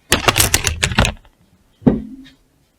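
Scissors snip through cotton fabric for a short-sleeve shirt, a quick run of crisp rhythmic cuts followed by a pause and one final clipped snip with a faint ringing tail.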